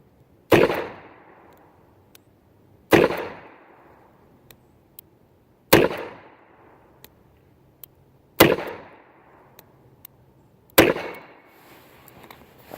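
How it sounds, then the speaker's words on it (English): Five sharp revolver shots from a Smith & Wesson Model 19/10 fired at a steel silhouette, evenly spaced about two and a half seconds apart, each with a short echoing decay and faint metallic ticks between. "6 shots at the steel silhouette down there"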